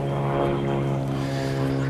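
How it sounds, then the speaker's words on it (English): An aircraft passes overhead outdoors on a busy day, a steady, loud droning engine hum with a low tonal rumble that holds without break and has no talk over it. "You're a noisy lot. Helicopters, aircraft."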